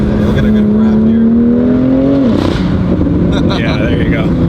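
BMW F87 M2 Competition fitted with a Valvetronic Designs exhaust, engine note climbing steadily in a rev before dropping off sharply, loud and close, with voices talking over it.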